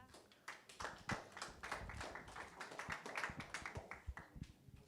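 Audience applause at an MMA fight weigh-in, a steady patter of many hands clapping that fills the room at moderate distance, with faint voices underneath.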